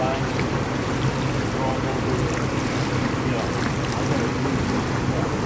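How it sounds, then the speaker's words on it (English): Water pours steadily into a canal lock, a constant roaring wash with gusts of wind buffeting the microphone throughout, no clear speech over it. "Water's still pouring in."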